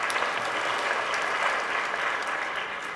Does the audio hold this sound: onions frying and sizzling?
no